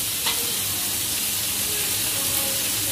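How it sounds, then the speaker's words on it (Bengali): Chicken together with vegetables fries in a black wok, giving a steady, close, even sizzle with a faint stirring clink near the start and no voices. "আমি এই চিকেনের সাথেই কিন্তু ভেজিটেবলগুলোকেও ফ্রাই করে নেব"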